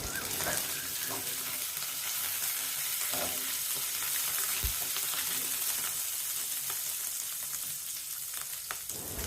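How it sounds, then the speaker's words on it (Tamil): Curry leaves frying in hot oil for samba rice, a steady soft sizzle with scattered light pops and spatters, heard alone without talk. "இப்போ கருவேப்பிலையை சேர்த்துட்டு கருவேப்பிலை பொரிஞ்சதுக்கப்புறம் அடுப்பை ஆஃப் பண்ணிடணும்."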